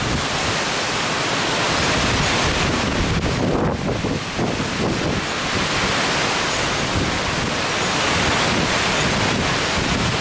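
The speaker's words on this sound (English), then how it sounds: "About a 65, 70 mile an hour gust every once in a while." Hurricane Irma winds roar nonstop with strong gusts, a dense, loud rushing noise buffeting the microphone for the whole stretch, with no voices.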